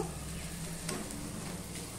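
Steady sizzling of spices frying in a hot pan, a continuous crackling hiss with a faint scrape of stirring.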